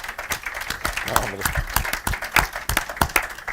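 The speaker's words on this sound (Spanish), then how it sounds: "Apláudanle, por favor, a este autor." Applause from an audience at a novel presentation in Madrid, honoring the author: uneven clapping spread over a few seconds with a voice talking over it.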